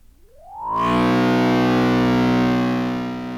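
A swelling electronic tone from an Elektron Model:Cycles delay with feedback turned up sweeps upward, then locks into a loud, sustained buzzing drone that slowly fades, like a delay with heavy feedback building on itself.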